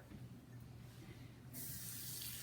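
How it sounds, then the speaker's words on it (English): Water from a tap running and splashing into a pan that holds meat drippings, a steady hiss that grows louder and brighter as the flow strikes the pan, with no talk. "I'm just going to add water"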